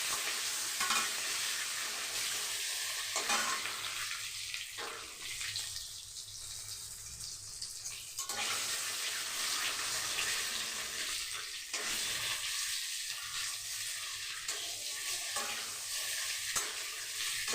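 Egg frying crisply in a pan over a full flame for a Bengali egg pulao, a steady broadband sizzle running throughout with brief spatula stirring breaks, no talking.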